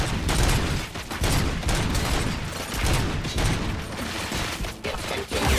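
Enemies firing guns in the shooter RoboCop: Rogue City, a loud, relentless fusillade of overlapping gunshots and mechanical clatter that barely lets up throughout.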